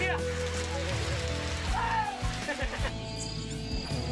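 Steady rain falls on a village journey, a dense, even patter that runs the whole clip while voices talk over it.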